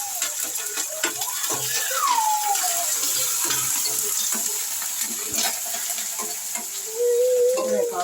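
Curry leaves fry in a pan for mango pulihora, giving a continuous bright sizzling hiss with scattered crackles and stirring scrapes throughout. No one speaks.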